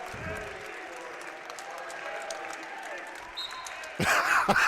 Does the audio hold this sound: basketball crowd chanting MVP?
yes